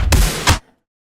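A deep electronic bass hit layered with a pitched-down transient punches twice in quick succession, loud and heavy with a sharp attack, then cuts off abruptly into silence.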